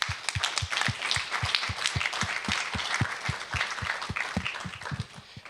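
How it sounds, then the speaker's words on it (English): A student government senate audience applauds newly initiated honor society members: a smallish group clapping at a brisk, fairly regular rhythm, individual claps distinct and close, fading at the very end. "So a round of applause for them."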